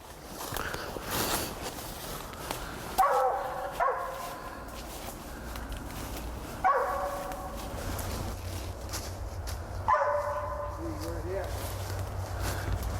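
A hunting dog barks at a squirrel treed in the woods, giving several spaced, moderately distant barks over rustling footsteps, with people talking throughout.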